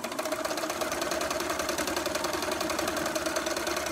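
A sewing machine stitching fabric squares for a Snails Storm quilt block, running at a steady fast mechanical whir with rapid even needle clatter, close and continuous.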